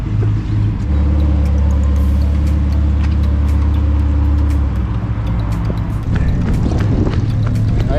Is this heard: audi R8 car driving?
yes